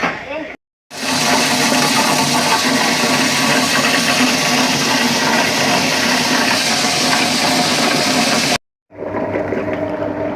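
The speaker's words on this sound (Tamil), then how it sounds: "கிரைண்டர்லேயே மிக்சிலேயே போட்டு அரைக்கலாம்" A mixer grinder whirs loudly and steadily, grinding soaked pearl millet into dosa batter, with a short pause near the start and a stop near the end before a quieter restart.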